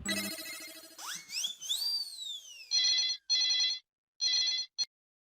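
Telephone ringing during a call: rising electronic chirps, then three loud repeated bursts of a trilling ring with short silent gaps, close and clear with no talk.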